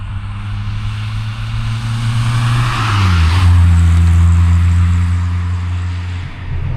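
Mk2 Golf GTI on the road with rock-hard suspension, its engine droning steadily near the microphone, dipping in pitch around a gear change before settling into a lower cruising hum over road noise.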